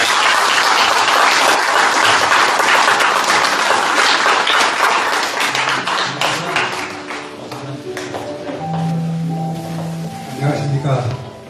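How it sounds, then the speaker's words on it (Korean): An indoor audience gives a book author a warm welcome with loud, dense applause that fills the room and then thins out, while people talk over the fading clapping. "다 같이 큰 박수로 조정래 선생님을 맞아주시기 바랍니다"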